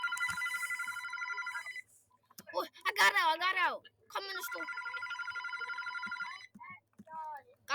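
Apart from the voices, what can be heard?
telephone ringing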